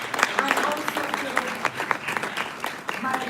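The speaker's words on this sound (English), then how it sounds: "I'd like to give us a round of applause to our panel" A conference audience applauds a panel, a short patter of clapping from a modest crowd, fairly close and steady.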